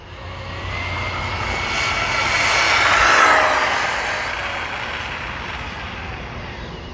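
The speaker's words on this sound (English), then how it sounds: "This little truck is cruising." A Rlaarlo Gladiator ROG1 1/14-scale RC monster truck races past at speed, its high-pitched electric motor whine swelling as it nears, peaking mid-pass, then fading as it pulls away, with no voices.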